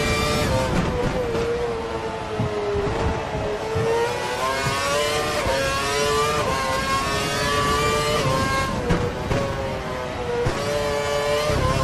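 Race car engine in a racing video game, running at full revs on a Hockenheim, Germany circuit, a loud continuous whine with rising and falling pitch as gears shift, heard alone without talk.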